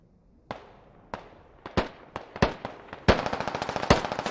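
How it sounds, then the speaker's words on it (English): Gunfire in the shooter Squad Ops: scattered single shots at first, spaced about half a second apart, then a dense rapid burst near the end, sharp and fairly close with no talking. "And Sebi taking some shots. Now Ronan taking some shots."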